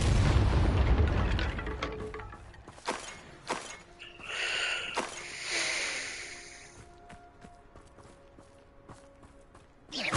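A Depulso force spell cast in the Hogwarts Legacy video game, heard as a sharp burst and whooshing blast amid scattered thumps and game effects, moderately loud with no talk.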